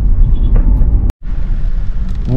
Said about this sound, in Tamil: ஊட்டி டு மைசூர் போகிற ரோடு பயங்கர டிராஃபிக்.